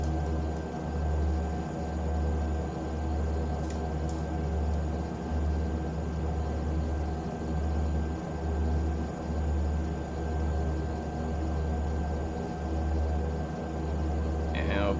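Saab 340 twin turboprop engines idle steadily in an X-Plane 11 simulation with the aircraft parked by a hangar, a continuous droning hum with a faint rhythmic throb and some high whine, talk over it now and then.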